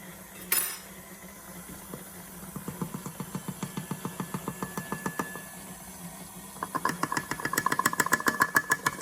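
A stand mixer runs at medium speed while working bread dough for homemade white sandwich bread, giving a steady mechanical whir with rhythmic knocking pulses that grow louder toward the end, close by, with no talking.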